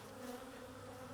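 Honey bees buzz around a hive frame as a steady, dense drone of many wings close by, held evenly throughout with no voices.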